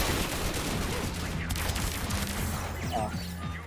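Gunfire and crashing hits from Warframe, a weapon's alt fire launching a ricocheting disc, with dense repeated impacts and a low rumbling bed running steadily throughout, under a busy game soundscape.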